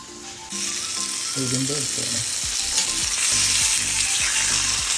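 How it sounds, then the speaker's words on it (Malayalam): Masala-coated salmon fries on a hot tawa with a loud, constant hissing sizzle, close up, with occasional scraping and stirring sounds underneath. "ഞങ്ങൾ വീട്ടിൽ വന്നിത് ഗ്രില്ല് ചെയ്യുവാണ്. ഗ്രില്ലിലല്ല, തവ ഫ്രൈ."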